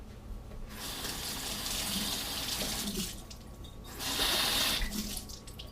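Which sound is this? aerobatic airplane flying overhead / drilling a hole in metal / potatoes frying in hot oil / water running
water running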